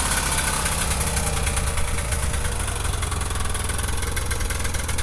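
An old 1986 Polaris Indy Trail snowmobile engine, choked, idles roughly and loudly nearby, with a steady uneven chugging and a faint knocking rhythm throughout.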